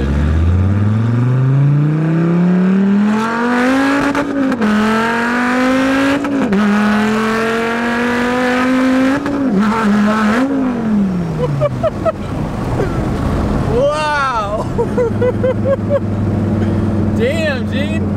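A modified car engine revs hard while driving, a loud close roar climbing in pitch through several gear pulls before dropping off into lower rumbling with some whining toward the end.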